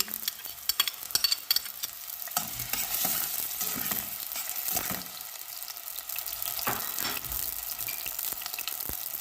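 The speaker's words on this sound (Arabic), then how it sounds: "مثل ما لكم شايفين بلش يغلي عندي الزيت. بنزل بالبصل بهالشكل." Onions dropped into hot oil for a vegetable pasta dish, frying with a steady loud sizzle and crackle throughout, with stirring and a few sharp clinks of a utensil against the pan near the start.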